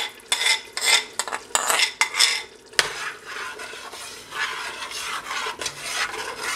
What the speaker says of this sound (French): Donc on remue un petit peu jusqu'à ce que ça soit homogène partout.